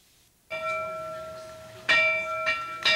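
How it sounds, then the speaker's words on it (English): A single tuned bell, part of a set of new pieces, is struck once so its pitch can be heard, then struck again a few times, with clear sustained harmonic tones ringing close and loud. "Let's see what this pitch is of the bell."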